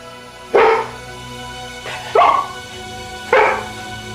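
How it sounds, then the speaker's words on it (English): A dog barks three times, sharp and fairly close, with steady gaps of about a second between barks over a low background hum. "And finally, the barking started."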